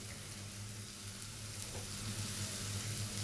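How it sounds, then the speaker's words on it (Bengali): Garlic and ground spices such as chili, turmeric and coriander fry in oil in a pan for a spinach dish, giving a steady, close, even sizzle with faint stirring and no talk. "রসুনটাকে একটু ভালো মতো ভাজতে হবে যেন এর কাঁচা গন্ধটা চলে যায়।"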